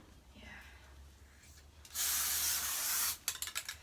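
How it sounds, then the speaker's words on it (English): A close, sharp hiss of a dropped, broken spray glue can spraying for about a second, followed by a few short sputtering bursts. "So now it's just spraying glue everywhere"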